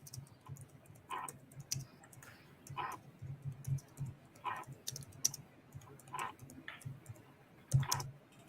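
Typing on a computer keyboard during a seller phone call, a quiet, close run of light clicks and taps in an uneven rhythm with no talking.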